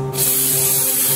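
A loud, steady hiss of simulated test smoke sprayed from an aerosol in one continuous burst during a fire alarm system test, starting abruptly and holding at full strength.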